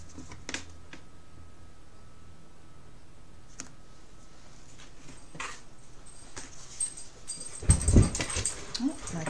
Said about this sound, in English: my dog is going a little crazy here behind me